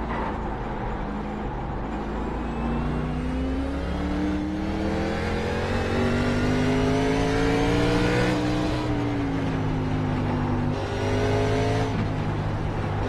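A NASCAR stock car engine racing at Sonoma in the iRacing simulator, loud and steady, its pitch climbing and dropping with each upshift and braking zone throughout, with no talking over it.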